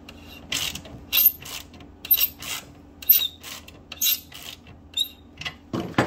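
Ratcheting clicks from a wrench turning a bolt on the lowering links of a Suzuki SV650 motorcycle, coming in short repeated bursts of metallic ticking at close range with no talk.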